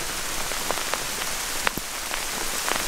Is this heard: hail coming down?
yes